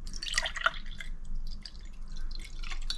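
Milk is poured into a tall glass to be frothed for cappuccino, giving a steady, close-up trickle and splash of liquid that lasts throughout, with no talking.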